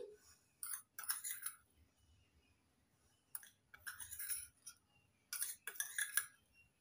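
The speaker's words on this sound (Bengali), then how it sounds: "ফেটিয়ে ফেটিয়ে সাদা করে ফেলবো একদম" Cream being whisked with powdered sugar and warm milk in a bowl, in three short bursts of rapid clinking and scraping of the whisk against the bowl, separated by quiet pauses.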